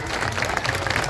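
Audience applause at the inauguration of the renovated Patel Garden in Nasirabad cantonment, a brief burst of steady, moderately loud clapping from a crowd.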